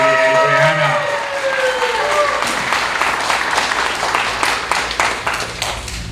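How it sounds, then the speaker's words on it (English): A live audience gives a round of applause for a woman at a motivational networking event, steady dense clapping that fills the room for about six seconds, with a voice briefly audible over the start. "Can I have a big round of applause for the lovely lady, Adriana?"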